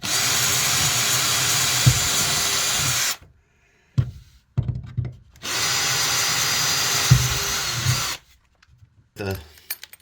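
A power drill drives stainless steel drywall screws into a shipping container wall in two long, loud bursts about three seconds each, with short quiet gaps and clicks in between.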